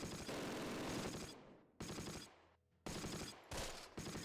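Machine gun fire in the Close Combat wargame: several loud, close bursts of rapid automatic shots, each stopping abruptly with short pauses between them, and no talk.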